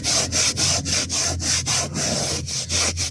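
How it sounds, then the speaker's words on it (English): Upholstery cleaner spray being rubbed into fabric by hand: a quick, regular back-and-forth scrubbing, about a dozen close, loud strokes with brief gaps between them, no voices. "Rub it in like this,"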